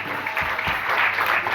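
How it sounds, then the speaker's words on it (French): A church congregation applauds loudly and steadily, a dense continuous wash of clapping that fills the short moment without pause. "Acclamons très fort pour la parole."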